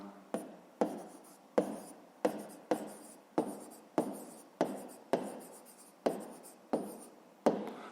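A pen scratches across paper in steady, regular strokes while a fifth-grade math exercise is written out by hand, about a dozen close, crisp bursts with short pauses between them and no talk.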